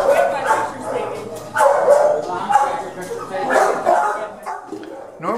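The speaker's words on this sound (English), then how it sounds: "when the walkers arrive, the dogs get very excited and very loud" Several dogs bark and yip excitedly in a kennel in rapid, overlapping bursts, loud and close, with a human voice briefly underneath.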